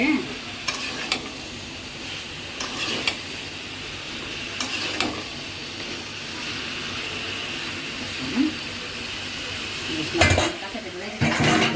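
Steady loud sizzling of vegetables frying in a pan, with a spoon scraping and clanking against the metal every few seconds.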